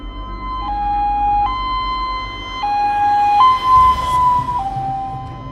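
An ambulance siren wails close and loud, its two-tone pitch stepping up and down in a steady repeating pattern across the whole stretch.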